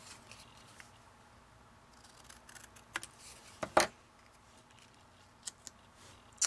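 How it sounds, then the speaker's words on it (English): Scissors snip the ends off a handmade Christmas gift tag, giving a few quiet, close cuts with one sharper crisp snip near the middle and a couple of faint clicks afterward. "I'm just going to trim the ends of this off."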